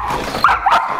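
Indoor dogs waiting to be let out give two close, loud whining yips in quick succession, high-pitched and strained.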